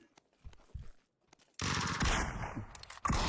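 Gunfire in the battle royale game PUBG: a few scattered shots and thumps, then a sustained loud burst of automatic fire and another sharp volley at the end, close and dominant, with no talking.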